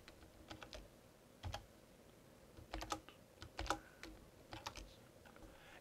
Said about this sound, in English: we'll type in the password